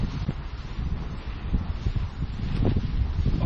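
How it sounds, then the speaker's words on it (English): Strong wind on a big hill buffets a wild camp with a Gore-Tex bivvy bag, a loud continuous roar and rumble, with gusts that swell and fade. "It's so windy."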